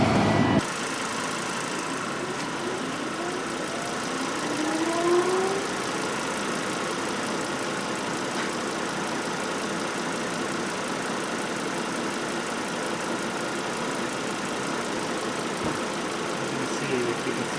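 A Volvo S60 T5 idles with the air conditioning switched on high, a steady, close mid-range engine hum with a constant blower roar layered over it, unchanging throughout.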